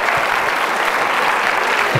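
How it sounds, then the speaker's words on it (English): A school audience at a hypnosis stage show gives a round of applause, dense and continuous clapping of many hands that holds steady from start to finish. "Give these folks a round of applause"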